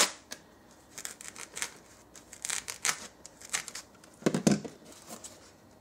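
Scissors snip through material while a pinhole projector for viewing an annular solar eclipse is built, giving a quiet close series of irregular cuts and crinkles, with a louder burst of snipping near the end.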